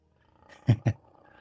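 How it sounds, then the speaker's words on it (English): Two lions purr from another room, heard as two deep, rumbling pulses in quick succession that stand out clearly against near-quiet. "Can you hear my lions purring?"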